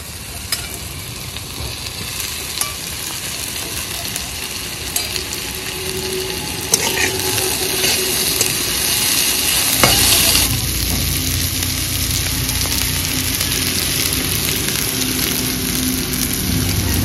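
Pre-fried potatoes sizzle loudly in a pan for a bitter gourd and mustard dish, a dense, steady crackle of frying with occasional scrapes and clatters of stirring throughout.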